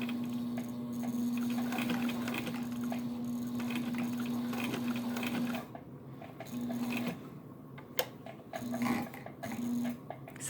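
A sewing machine stitches through thick leather with a steady whirring hum, then slows into stuttering bursts and halts as the needle strains against the heavy layers, heard close with no talking.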